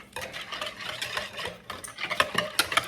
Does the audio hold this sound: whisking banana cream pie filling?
yes